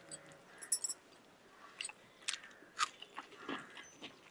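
Close, crisp bites and crunching chews as traditional food dipped in chutney is eaten with raw onion, a handful of sharp bites spaced irregularly with quieter chewing between.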